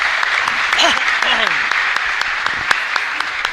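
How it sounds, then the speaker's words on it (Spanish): A church congregation applauds during a Catholic Mass at Santísima Trinidad parish in Asunción, a steady crackle of clapping filling the space with a few raised voices rising briefly over it. "Fuerte aplauso para el Señor entonces."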